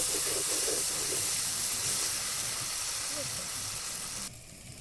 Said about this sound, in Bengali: দেখো মশলায় তেল ছাড়তে শুরু করেছে, আর মশলাটা প্রায় ভাজা হয়ে গেছে। আমি আর একটু নেড়ে চেড়ে নিচ্ছি।